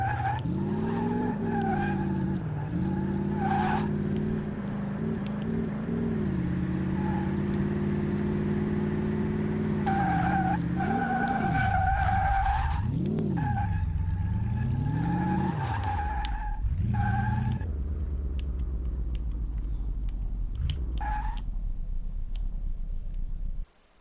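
A DC Typhoon car in Car Mechanic Simulator skids and squeals its tires while spinning donuts. The engine whines loudly and steadily for over twenty seconds, its pitch swooping up and down as the car turns, before it cuts off abruptly.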